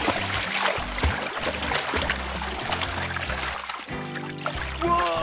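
Water pours into a container at a children's museum, a continuous splashing gurgle with a broad wash of trickling noise over a low rumbling background, steady and fairly close throughout.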